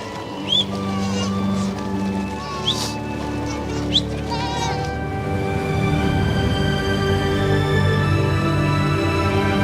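Sheep bleating repeatedly while a flock is herded across a cold river in Ladakh, with several calls standing out over steady rushing water and a continuous background drone.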